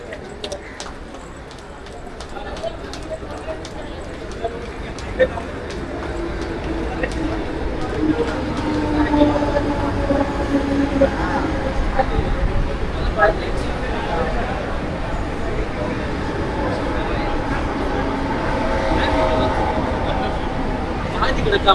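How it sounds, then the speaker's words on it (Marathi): A suburban local train bound for Belapur arrives at a platform, rumbling and clattering steadily along, wheels rattling over the rails with a continuous low roar, while people talk over it. "आपली ट्रेन आली 1 वाजून 2 मिनिटाची बेलापूर."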